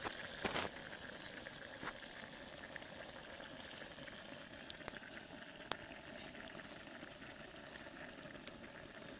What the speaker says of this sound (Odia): ଦେଖନ୍ତୁ ଆମର ଅଣ୍ଡା ପକାଉଛି